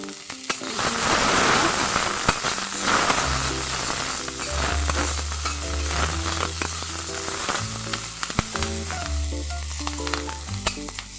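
Onion, about 200 garlic cloves and a couple of curry leaves frying in oil: a loud, steady close sizzle with stirring scrapes, and a low musical tone running beneath from about three seconds on.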